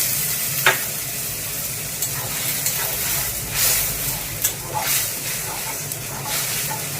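Tomatoes, tomato paste and onion fry in a pan while being stirred, giving a steady close sizzle broken by intermittent scraping and stirring clatter, with no voices.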